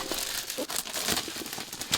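Plastic wrapping is pulled off a Conan the Barbarian book, giving close, quiet bursts of crinkling and crackling that continue throughout.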